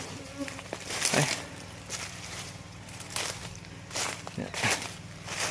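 Honeybees drone in a soft, continuous buzz around a wooden hive box outdoors, with someone talking over it and occasional rustles and knocks nearby.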